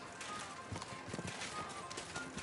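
Soft horse hooves clip-clop at a walking pace in the video game Kingdom Come: Deliverance 2, faint and fairly close, with a low mumbling voice in the background.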